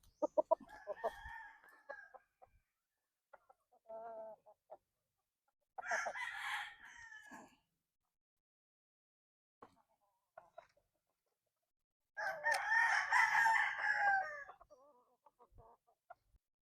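Roundhead stag roosters about ten months old crow one after another outdoors, each loud call alone, with softer clucks and bird sounds in the quiet gaps between them.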